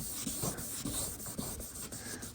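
Close, quiet rhythmic rubbing of 1000-grit wet sanding on a Dodge Charger headlight lens, with several short back-and-forth strokes and no talking.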